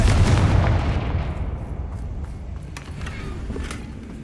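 Blasting curse detonating in the Hogwarts Legacy video game, a single heavy explosive boom that bursts loudly at the start and rolls off into a long rumbling, crackling decay with no voices.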